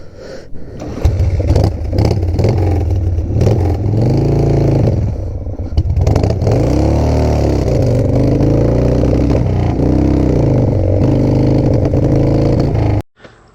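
Harley-Davidson FXR motorcycle engine running close by, a loud rumbling idle with rising and falling revs and clattering, cutting out abruptly near the end.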